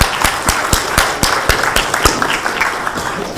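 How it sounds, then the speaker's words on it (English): A small group applauds during a memory-technique workshop, with loud, close individual claps ringing out in a fairly regular rhythm. "A round of applause, I'd say."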